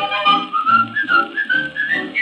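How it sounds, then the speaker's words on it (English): A person whistles a cheerful, bouncy song melody, clear and close, with short gliding phrases and brief breaths between them, alone with no talking. "Pucker up your lips and whistle at the sunlight."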